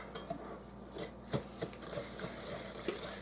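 A whisk works peanut butter swirl brownie batter by hand in a bowl, giving soft scraping strokes broken by small irregular clinks of metal against the bowl, faint and close with no talking.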